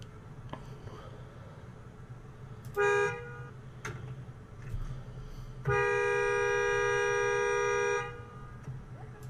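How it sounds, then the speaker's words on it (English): A car horn in a parking lot toots once briefly, then blares in a long sustained honk of about two seconds over low traffic rumble, with no talk. "So as she's beeping the horn"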